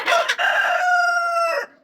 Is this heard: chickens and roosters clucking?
yes